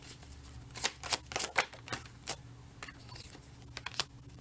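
A deck of playing cards being shuffled, with a handful of crisp riffling and flicking bursts close by over a faint steady hum, no talking.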